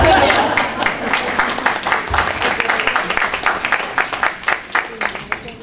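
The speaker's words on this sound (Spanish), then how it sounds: "Un aplauso para Gabriela." Audience applause in a packed hall for a speaker introduced at a talk on gender ideology and the conservative movement in Costa Rica: steady, dense clapping from many hands that thins into scattered claps toward the end.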